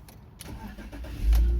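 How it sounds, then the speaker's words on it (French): A used car's engine is started with the ignition key, turning over and catching with a loud low rumble that swells into a steady running note near the end, with no voices over it. "l'étape suivante pour moi, c'est de mettre en route le véhicule"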